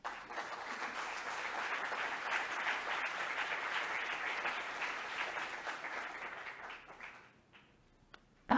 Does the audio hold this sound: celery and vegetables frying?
no